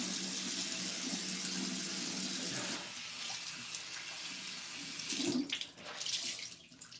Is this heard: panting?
no